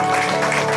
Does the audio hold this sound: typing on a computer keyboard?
no